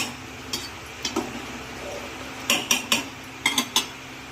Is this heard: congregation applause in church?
no